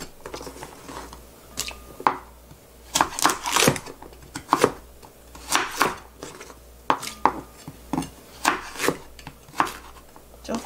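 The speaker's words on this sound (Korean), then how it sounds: "자, 요 정도 사이즈로 이렇게 해서 전부 이렇게 잘라두겠습니다." Knife chopping kimbap fillings into lengths on a cutting board, a series of crisp, close cuts in irregular bursts with no talking.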